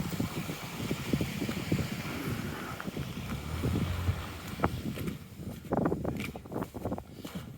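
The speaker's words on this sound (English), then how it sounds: "I'm getting a little bit of wind right here." Wind buffets a microphone outdoors on snowy city streets after a snow storm in Halifax, a steady low rumble with gusty surges throughout, no voices.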